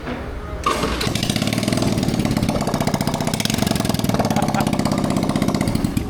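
A Yuki Hammer 50cc scooter engine fires up and settles into a steady, buzzing idle, loud and close, running continuously without talk.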